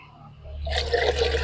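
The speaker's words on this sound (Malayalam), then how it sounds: "മൂന്ന് പാത്രം വെള്ളം നമുക്ക് ഒഴിച്ചു കൊടുക്കാം" Water gushes and splashes steadily into a container at close range, building up after a quiet start.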